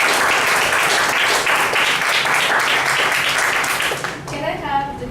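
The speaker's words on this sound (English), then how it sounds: "Please give a big round of applause." A room full of people at a meeting breaks into a round of applause, loud and steady for about four seconds before fading into scattered claps and quiet voices.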